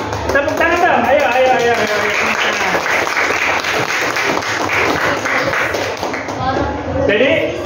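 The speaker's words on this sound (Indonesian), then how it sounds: "semuanya kita tepuk tangan untuk kita semuanya" Classroom of schoolchildren clapping hands during a microteaching lesson, loud and close, a dense continuous patter with children's voices chattering and shouting over it throughout.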